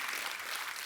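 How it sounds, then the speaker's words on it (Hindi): A short stretch of TV comedy show studio audience applause, dense and steady, a brief wash of many hands clapping at once at moderate volume. "सनी के लिए जोरदार तालियां।"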